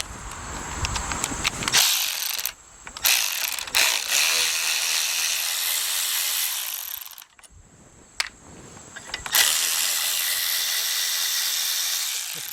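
Ratchet wrench removing the carburetor from a cheap junk lawnmower, long runs of rapid close clicking broken by short pauses and repositioning, with no talk.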